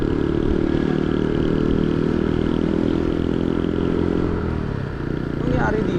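A motorcycle with an engine problem runs close by, a rough, clattering steady idle that sags and stumbles near the end as if about to stall, with someone speaking over it.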